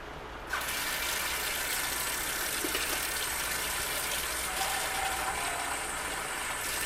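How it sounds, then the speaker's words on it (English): Water gushes steadily from a tap into a food container while batch-preparing meals, a continuous close rushing fill with no talk. "Now I'm going to add a little bit of water."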